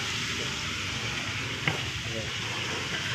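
Pork pieces frying in very hot oil, a steady close crackling sizzle with one sharp pop, continuing unbroken throughout.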